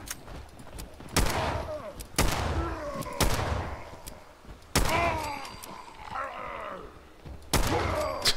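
Repeated gunshots in the video game Fallout 4, about five loud sharp bangs spaced roughly a second apart, each trailing into a ringing, echoing decay, with a brief quieter thud and low groan between shots.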